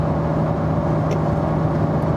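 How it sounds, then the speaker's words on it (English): A Porsche GT3 with a manual gearbox cruising in fifth gear at about 56 mph gives a steady, even engine and road drone that holds constant from start to finish. "it's really great to see that Porsche just cruising in manual mode, 5th gear, 56 miles an hour"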